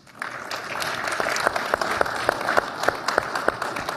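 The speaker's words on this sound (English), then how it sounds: "So I want to give them a round of applause" Conference audience applauding together, a dense steady wash of many hands clapping with sharper individual claps standing out, continuing at an even level throughout.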